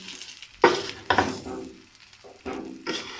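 Dal being stirred in a hot pan for Punjabi panjiri gives a sizzling, scraping sound, with irregular bursts of spoon strokes and frying hiss close up and no talking.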